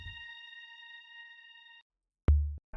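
A synthesized choir pad in a loop-pop production holds a steady, sustained chord for nearly two seconds before cutting off, followed by a couple of deep, short bass thumps.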